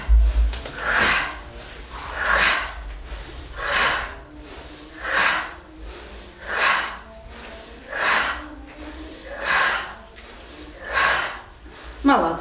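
A group breathing exercise with slow, steady inhales and exhales, about nine breaths in a regular rhythm, loud and close with a low hum underneath.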